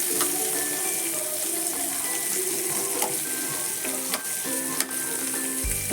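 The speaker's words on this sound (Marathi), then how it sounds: "मी तेल घालून कांदा कांदा अर्धा कांदा अर्धा कांदा र रसासाठी ठेवला आहे तर इथे तर हे हलकंसं भाजून घ्यायचं" Onion frying lightly in oil in a pan gives a steady, close sizzle, with a few small clinks and scrapes of stirring and a louder knock near the end.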